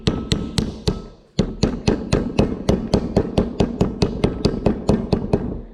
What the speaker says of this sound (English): If you have a metal hammer, you'll hear it go ding, ding, ding